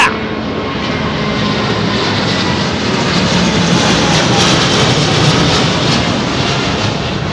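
British Airways Boeing 787-10 with Rolls-Royce engines flying low over London Heathrow, a loud, sustained jet roar that holds steady throughout.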